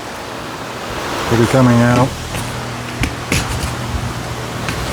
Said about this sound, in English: If you hear a fan in the background